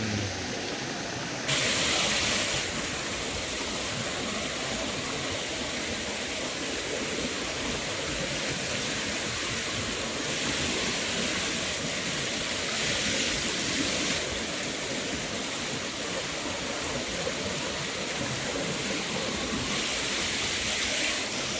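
Thai jungle waterfall deep in the forest, spray drifting through the air, gives a steady broadband rush of falling water that holds at an even level throughout, close and continuous with no voices.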